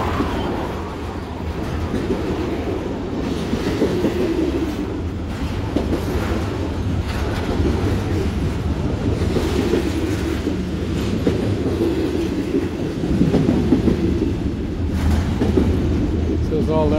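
A long CSX intermodal freight train rumbles past nearby, switching tracks into a yard with continuous rolling wheel noise and faint clicking joints, while a voice talks over it.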